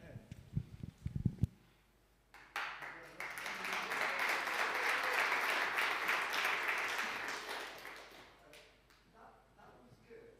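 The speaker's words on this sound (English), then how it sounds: "Just an applause" A church congregation at a Sunday service breaks into sustained applause that swells and then fades, following brief talk at the start.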